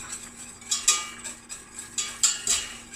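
Metal whisk scraping and clinking in a pot of heating vegan gravy, irregular taps and scrapes every half second or so, close and fairly quiet, no talking.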